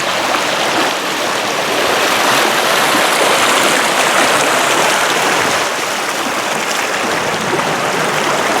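Steady, loud broadband rush of river water flowing along a former secondary channel, continuous and close throughout with no voices.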